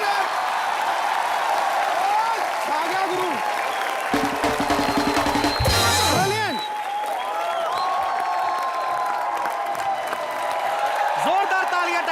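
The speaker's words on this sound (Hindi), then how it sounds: "एक बार जोरदार तालियां टाइगर श्रॉफ के लिए।" A studio audience on the Comedy Nights With Kapil comedy show gives loud, sustained applause with some cheering, while someone speaks over it.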